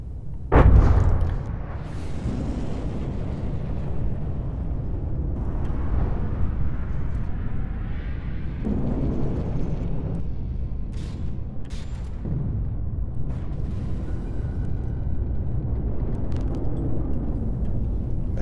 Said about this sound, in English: those cram cannons are just going to shred it